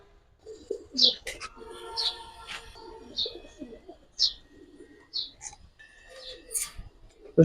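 Pigeons coo and call in a loft, with several short, distinct vocalizations spaced across the stretch over a quiet background and faint low rumbling.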